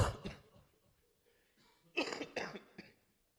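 Several harsh coughs in quick succession, close and fairly loud, after a quieter stretch of faint breathing.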